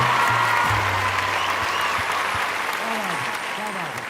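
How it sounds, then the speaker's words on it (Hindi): An audience at a Hindi poetry gathering gives broad, sustained applause that fades slightly near the end, with a voice speaking briefly underneath the clapping. "एक बार दोनों हाथ उठा के तालियां बजाइए"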